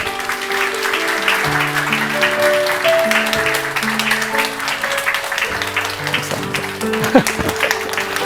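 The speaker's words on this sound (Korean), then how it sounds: "우리 큰 박수로." A church congregation claps during a Sunday worship service, steady mid-level applause sustained throughout while held musical tones play underneath.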